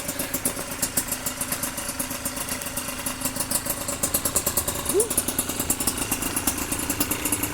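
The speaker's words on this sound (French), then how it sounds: "Et le ralenti. Oh, le ralenti." A Suzuki RMX dirt bike engine idles steadily just after a first-kick start, a rapid even mechanical pulse that holds throughout at close range, with a voice speaking over it.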